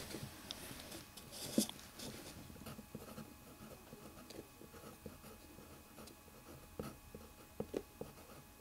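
Pencil or pen writing a vocabulary word on a small paper strip, soft scratchy strokes with a few sharper taps, close and quiet in a still room.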